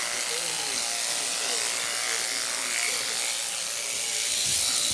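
Electric shears buzz steadily while shearing a ram's fleece on a trailer, a loud continuous drone that stays up close the whole time.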